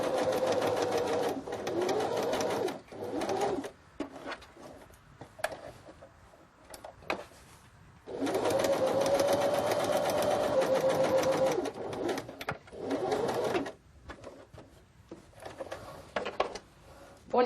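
A sewing machine sews a 5 mm seam along three sides of a fabric laundry bag, with long loud whirring runs broken by quiet pauses and small clicks.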